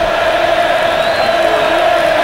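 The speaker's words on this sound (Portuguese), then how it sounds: "Olha a torcida gritando" A packed stadium crowd at La Bombonera roars and chants for Palermo, a loud, sustained wall of shouting and cheering with a steady chanted tone running through it.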